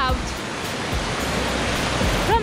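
A waterfall in Machakhela National Park gives a steady broadband rush of falling water, continuous and fairly loud, with a voice briefly audible near the end.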